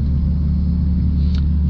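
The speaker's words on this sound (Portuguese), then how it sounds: "O ronco desse K20" A Honda K20 engine idles with a deep, steady exhaust rumble, close and loud, with a low droning throb and no voices.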